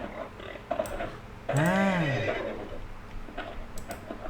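A horse in the Survivalcraft 2 video game gives one loud, clear neigh that rises and falls, set against faint clicking and light game background sounds.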